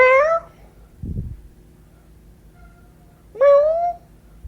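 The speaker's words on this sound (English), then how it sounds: "That would be Clancy, my cat." Clancy, a pet cat, meows twice with long rising-falling cries a few seconds apart, close and clear, with a low thump between them.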